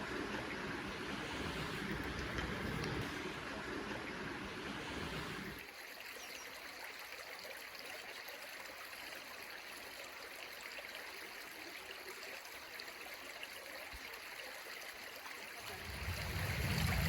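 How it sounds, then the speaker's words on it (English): Water gurgles and trickles steadily along a flowing spring stream outdoors, a continuous close wash of sound with a fuller, louder rush at the start and again at the end. "The sound of the water gurgling away as it channels"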